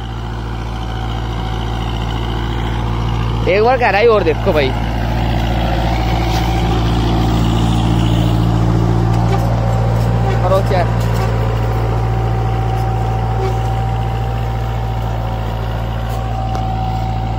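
A Kubota 4x4 tractor in third low gear and four-wheel drive pulls an 11-tine cultivator and a 14-disc harrow, its engine holding a steady, heavy drone throughout while someone talks over it.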